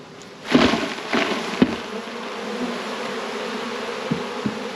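Honey bees buzz around a brood frame lifted from a hive, a steady close hum broken by a few knocks and thumps as the frame is handled.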